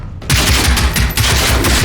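Gas tank blowing up in the video game Generation Zero, a loud sustained burst of crackling, popping blasts following a brief quieter lead-in, with rapid repeated bangs that resemble gunfire throughout.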